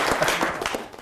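Audience applause after a magic trick: dense, steady clapping from a crowd, fairly loud and continuous for about a second.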